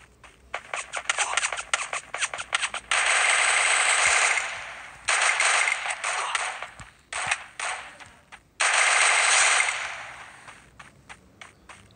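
Rapid automatic gunfire in the battle-royale video game Free Fire, loud bursts of fast rattling shots separated by short pauses, with several long sustained volleys and scattered single cracks.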